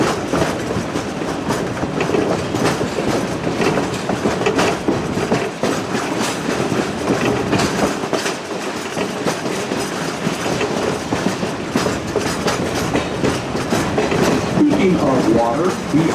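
A passenger excursion train runs steadily on its rails with a continuous loud rumble and rhythmic clickety-clack of the wheels near a gravel road, with no voices over it.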